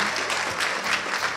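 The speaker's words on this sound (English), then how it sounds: "Let's give a nice round of applause." Wedding reception guests applauding after a toast, a brief burst of moderately loud clapping from a crowd in a hall.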